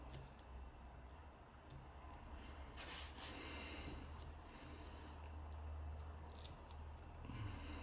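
Small scissors snip the loose thread ends on an extended-body mayfly fly at a tying vise, a few quiet close cuts over a low steady hum, with no talking.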